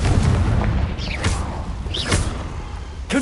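Confringo blasting spells going off in a Harry Potter game, a rumbling boom with a couple of sharp swooshing bursts on top, loud and close against a steady low background.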